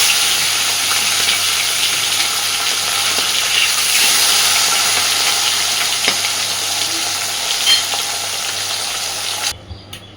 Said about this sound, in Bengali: হালকাভাবে মাছগুলোকে জাস্ট একটু ভেজে নিচ্ছি